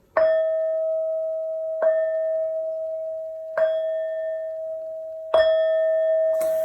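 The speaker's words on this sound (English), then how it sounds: "These next 4 bell sounds are to align us and to bless this reading." Four clear bell strikes ring out one after another, each struck about two seconds apart and left to sustain with a bright, lingering tone.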